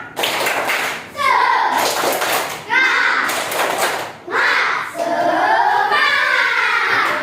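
Schoolchildren in a class 4A lesson perform a tepuk semangat clapping chant, loud close bursts of rhythmic handclaps alternating with children's voices chanting in unison, repeated in several short phrases.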